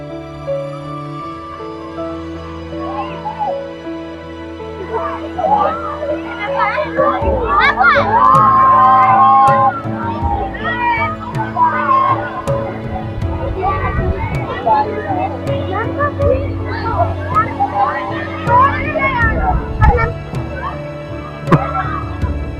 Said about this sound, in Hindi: आप देखिए किस कदर भीड़ है बच्चों की।